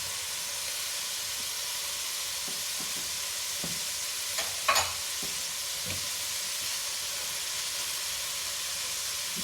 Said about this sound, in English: I'm going to stir it right there, just let that sweat down a bit